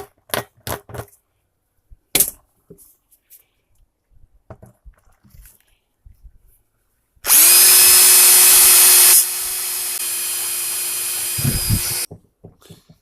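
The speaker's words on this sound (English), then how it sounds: "I was supposed to drill here and I drilled there." A power drill whines loudly for about five seconds, its pitch dropping partway as it bites into a plastic bucket, after scattered clicks and handling knocks.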